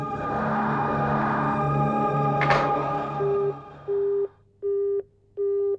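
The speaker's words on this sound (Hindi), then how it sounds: "मैंने ना कह दिया तो फोन ही काट दिया।" A telephone line going dead after the caller hangs up, in a TV drama: a continuous tonal hum under the earlier sound gives way to four evenly spaced, loud steady beeps of a disconnect tone, alone.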